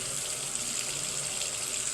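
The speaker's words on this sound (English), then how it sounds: "I'm going to run it under warm water with the brush going down because I don't want water running up into the barrel" Warm tap water runs steadily over a brush held bristles-down under the faucet, a continuous, fairly close splashing hiss with no voices.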